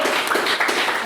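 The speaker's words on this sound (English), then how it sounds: "let's give them a round of applause." Brief burst of audience applause in a hall at a debate event, dense steady clapping from many hands at close range with no talk over it.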